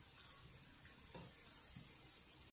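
Cumin seeds sizzle in hot ghee while tempering moong dal, a faint, steady crackling hiss that runs continuously with a few soft stirring knocks and no talking.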